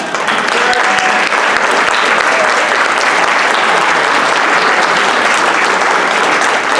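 Sustained applause from an audience at a Democratic executive committee election meeting, steady and loud throughout with no break.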